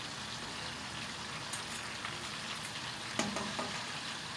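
Yogurt soup with wheat simmering in a pot: a steady, dense bubbling and crackling close by, with a few faint clinks, and no voices.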